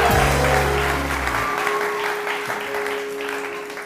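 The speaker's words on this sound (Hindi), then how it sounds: "बहुत सारी तालियां मेरे बैंड के लिए।" A studio audience at a TV morning show claps loudly at first, with a musical chord from the band ringing out, then the applause gradually fades but continues.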